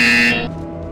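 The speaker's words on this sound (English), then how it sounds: "You will hear a buzzer." Short electronic buzzer from the VR game Portal, one loud harsh tone that lasts about a third of a second and then cuts off into a faint fading tail.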